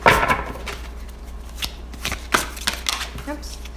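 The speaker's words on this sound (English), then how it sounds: "These cards are very hard to shuffle." Tarot cards shuffled by hand, a stiff deck that resists shuffling, giving a flurry of papery riffles and slaps in uneven bursts that stand close and clear.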